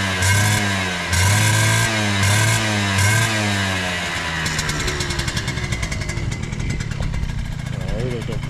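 A Honda Dio AF18 scooter with an upgraded transmission runs loud and close, its small two-stroke engine revving up and down in repeated swells before settling into a buzzy, rattling drone.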